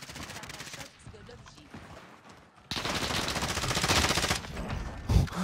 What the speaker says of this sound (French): c'est la M13 qui tire